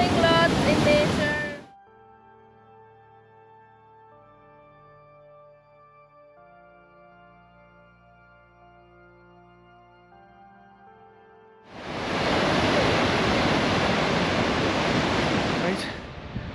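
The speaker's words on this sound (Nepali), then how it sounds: "पुटपुटे झर्नामा बसिरहेको छौँ चिल गर्दै" Putpute waterfall on the North Annapurna trek roars as a loud, continuous rush of falling water, heard briefly at the start and again for several seconds near the end, with a stretch of soft music in between.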